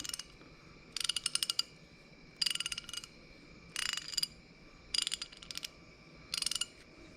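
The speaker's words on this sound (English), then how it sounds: "This is a nice big ratchet." A large 1/2-inch drive SK ratchet clicking in five quick bursts of rapid clicks, evenly spaced with short pauses between, close by over a low background rumble.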